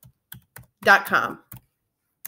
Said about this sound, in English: go ahead and type in the URL